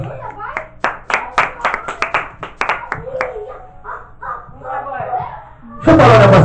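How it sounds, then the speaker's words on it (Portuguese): A church congregation claps for Jesus Christ, starting as scattered claps that build into a lively round of applause while a preacher speaks, and a louder burst of noise closes the moment. "Uma salva de palmas para Jesus Cristo."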